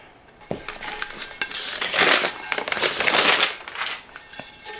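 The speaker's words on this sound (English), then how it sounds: "let's go ahead and finally unwrap the tumbler" A sublimated tumbler gets pulled free of its wrap in close, loud crinkling and crackling bursts, with scattered sharp rustles and a brief clatter, and no one speaks.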